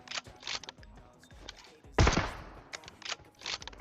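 Gunfire in the PUBG Mobile battle royale game, several short bursts of rifle shots with one loud close blast near the middle, set against softer scattered shots and game noise.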